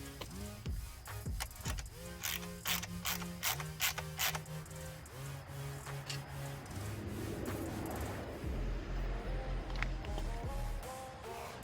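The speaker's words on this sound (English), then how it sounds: "Now that the clamp is there, we can tighten it with our 10mm." A ratchet with a 10mm socket tightens the clamp on an SC Project CR-T slip-on motorcycle exhaust, producing quick bursts of close clicking over a steady tonal background that carries on after the ratcheting stops.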